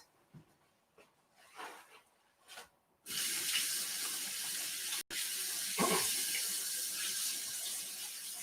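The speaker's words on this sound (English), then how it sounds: "let me just rinse off my hands." Hands being rinsed under a running sink tap in a kitchen: a few soft handling knocks, then the faucet opens into a steady, close rush of water with splashing changes as hands move through it.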